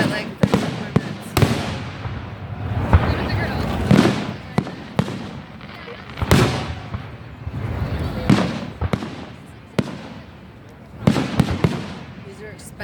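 Canada Day fireworks exploding above a beach at night, a steady run of loud booms and sharp cracks, some in quick clusters, with crowd voices chattering underneath.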